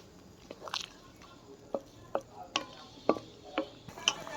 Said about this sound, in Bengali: সর্ষে বাটাটা দিয়ে দিয়েছি তো একটু নাড়াচাড়া দিয়ে নিচ্ছি